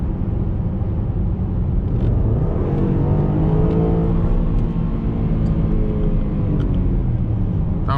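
A car engine revs hard and then drops through a quick downshift, its pitch climbing and falling in smooth sweeps over a steady, loud drone that runs the whole time with no talk.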